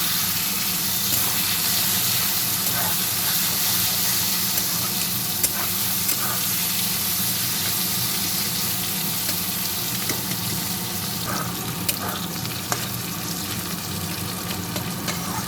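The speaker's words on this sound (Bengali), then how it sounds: "একসাথে আমার আলুর সাথে পেঁয়াজটাও ভাজা হয়ে যাবে" Potatoes and two large chopped onions fry together in a pan, giving a steady close sizzle with occasional stirring scrapes and clicks throughout, no talking.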